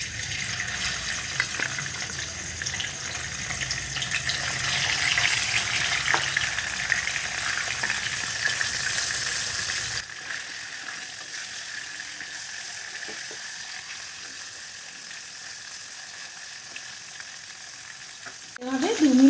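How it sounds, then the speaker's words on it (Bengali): Turmeric-and-salt-rubbed bele fish frying in hot mustard oil in a wok, a dense, loud sizzle that drops to a softer steady hiss halfway through, with a brief clatter at the end. "এই গরম তেলের ভেতরে নুন হলুদ মেখে রাখা মাছগুলোকে ছেড়ে দেব"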